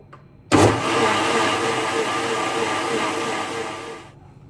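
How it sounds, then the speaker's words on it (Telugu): A mixer grinder blending mango pudding starts abruptly and runs at a steady, loud, high-pitched whir for about three and a half seconds, then cuts off. "ఇది మనం ఇప్పుడు మిక్సీ పట్టేసుకుందాం"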